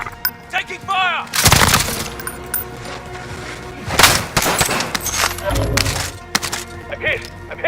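Bursts of video game gunfire crack out in scattered volleys with several loud shots, under radio chatter and in-game voices calling out warnings.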